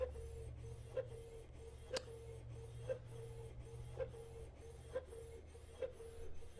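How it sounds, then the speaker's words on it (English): A Canon PIXMA MG2522 inkjet printer prints a page with a steady low motor hum, a sustained mid tone, and regular ticking clicks about once per second, heard nearby with no talk. "It's printing pretty quick."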